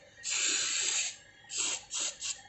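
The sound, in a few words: spraying the refrigerator pipes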